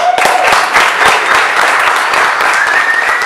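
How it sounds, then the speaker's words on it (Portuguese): A live audience at a maker and hacktivism talk in Curitiba claps loudly and steadily, a dense wash of many hands with no voices on top, sustained for a few seconds. "Vai ter que continuar aplaudindo, galera."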